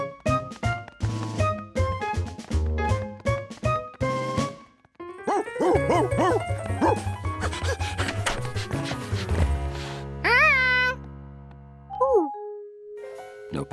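Cartoon dogs barking repeatedly in a noisy dog pile, with layered yaps and background music, ending in sliding cartoon sound effects and a sustained tone.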